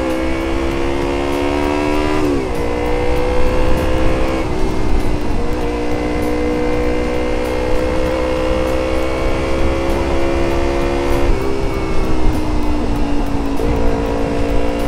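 A car is driven fast, its engine a loud, close, continuous drone that rises in pitch through several gears, with brief dips at each shift and steady road noise underneath.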